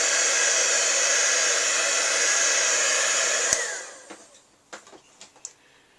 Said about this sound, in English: we're going to also hit that with our heat gun again